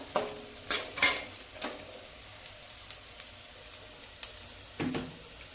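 Onion and garlic paste fries in a pan for chicken maharani curry: a faint, low sizzle broken by irregular close taps and scrapes of a stirring spoon.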